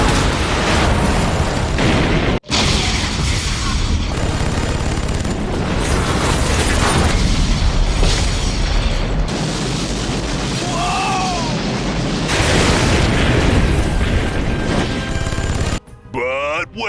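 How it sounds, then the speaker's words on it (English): Loud, continuous movie explosions from a carpet-bombing run by American fighter jets in a Steven Seagal action film, with rumbling booms and debris crashes piling up and only a brief gap near the start. "The American fighter jets arrive and carpet bomb the place"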